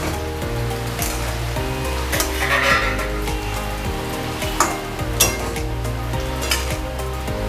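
Pieces of fried fish go into a pan of sizzling masala, giving a continuous close frying hiss with repeated utensil scrapes and clinks as the mixture is stirred.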